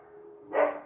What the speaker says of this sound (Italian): Scusate i cani che abbaiano, ma non posso farci niente.